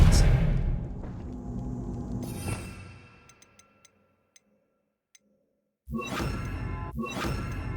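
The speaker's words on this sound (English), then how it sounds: "Expelliarmus!" A cast Expelliarmus spell in the Hogwarts Legacy video game: a loud rushing whoosh fades into a few sparse ticks and near silence, then two sharp bursts of sound return near the end.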